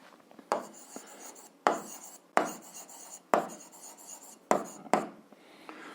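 Pen or chalk strokes scratch across a surface during an algebra lesson, coming in five or six distinct scraping bursts of writing, each starting sharply and trailing off, close and fairly quiet with no talking.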